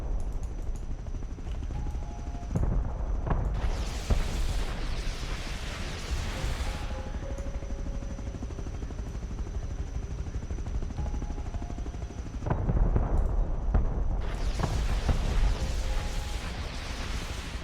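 Rocket volleys from an attack helicopter in the game Rust, heard as bursts of loud explosive blasts in two separate clusters, with a steady engine drone running underneath throughout.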